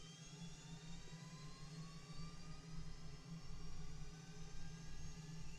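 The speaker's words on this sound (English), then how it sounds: "Probably should have waited for the APU to spool" An aircraft's APU and engine spooling up during a start in the DCS flight simulator: a steady low rumble under rising whining tones that climb slowly and evenly, fairly quiet and continuous with no voices.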